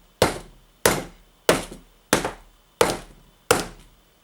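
Six sharp, hard knocks of a hammer striking a thermoplastic LARP bracer, evenly spaced about two thirds of a second apart, each with a short dull decay.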